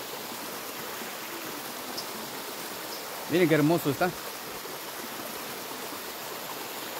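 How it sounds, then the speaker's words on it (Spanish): A mountain stream flows on Cerro San Gil near Puerto Barrios, Guatemala, as a steady soft rush of water throughout, with a short spoken remark partway through. "este río nace más o menos cerca de 1 kilómetro de arriba y se viene por todo acá y pasa aquí"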